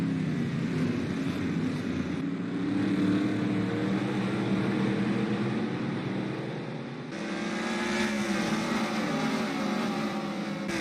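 Race cars battle through a 30-lap last-chance qualifying race at Daytona, their engines making a continuous, loud, droning roar whose pitch shifts as the field runs together; no voices are heard.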